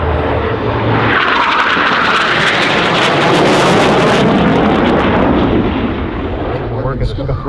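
A T-38 jet sweeps past loudly at a California airshow, its roar swelling and falling with a rising whine as it passes, heavy and close, while a commentator's voice talks over it.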